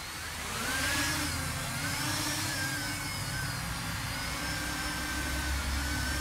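An LRP Gravit Xtreme 80 racing quadcopter spins up and lifts off from a flat surface, a loud, steady whirring drone of rotors with faint rising and falling whines.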